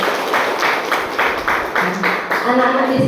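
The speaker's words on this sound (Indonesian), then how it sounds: "Tepuk tangan untuk anak-anak kita" An audience at a Mother's Day school event claps for the children in a quick, steady rhythm of rounded pulses, and a voice begins speaking near the end.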